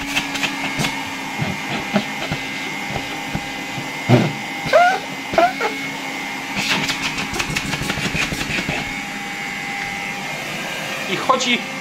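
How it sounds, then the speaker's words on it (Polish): A 1959 Gamma II vacuum cleaner with a German motor from Suhl runs steadily at high setting, a continuous whirring hum with clicks and handling noises over it. "Myślę, że słyszycie, jak fajnie zasysa ten odkurzacz."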